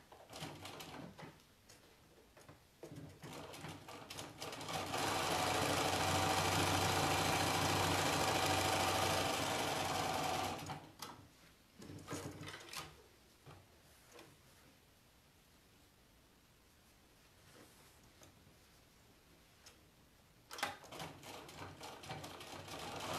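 A sewing machine runs a steady stitching burst of about five seconds while sewing fabric basket straps, then gives way to quieter handling clicks and rustles of the fabric, with no talking.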